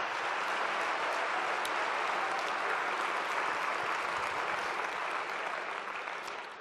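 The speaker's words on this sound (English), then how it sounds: "let's give Joaquin a round of applause" A large audience claps steadily and loudly throughout, a dense sustained round of applause at an event introducing a speaker, fading slightly toward the end.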